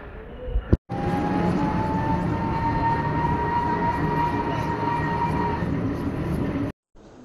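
A train heading to Howrah rumbles steadily from inside the carriage, with a loud, continuous roar and a sustained whine, bracketed by brief cuts at the start and end.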